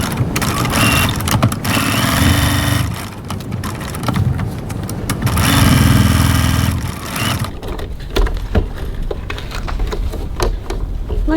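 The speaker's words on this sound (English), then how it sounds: "And now I'm going to top stitch 3 millimeters 1/8 of an inch on either side of the seam" Sewing machine top stitching along a pressed gusset seam, running in two long steady motor bursts with a pause between, then quieter handling clicks and rustles afterward.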